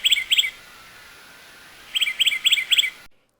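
Several birds chirp and tweet in quick bright bursts, a short pair of calls followed after a pause by a rapid run of repeated notes, fairly close and clear over quiet background.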